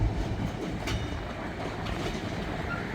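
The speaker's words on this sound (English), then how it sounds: "this is the first train in about 5 days" A train passes on railroad tracks at a crossing in a no-horn zone, giving a loud, steady rumble of wheels and cars that holds for the whole stretch with no voices.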